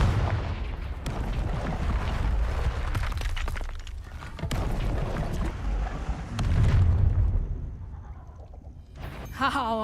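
In the video game Hogwarts Legacy, a Confringo blasting curse goes off in a series of sharp explosive bursts and shattering impacts amid combat noise, with a deeper rumbling blast later, loud and close.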